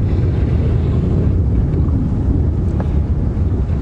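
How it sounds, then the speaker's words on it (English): Strong wind buffeting the microphone during an open-vehicle safari drive near a water point at a game reserve, a loud continuous low roar that fills the whole clip with no other clear sounds. "it can be really difficult to hear over the wind blowing"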